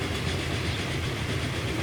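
A passenger train of four Pullman six-axle carriages runs in the Transport Fever 2 game, giving a steady, close, dense rumble with faint rhythmic clatter throughout and no voices.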